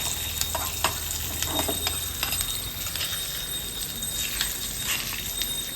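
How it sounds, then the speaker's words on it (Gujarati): A spoon stirs idada batter with sesame seeds and lemon juice, giving light irregular ticks and soft scrapes over a steady background hiss at moderate, close range. "ચમચીથી આપણે બધું જ મિક્સ કરી દઈશું"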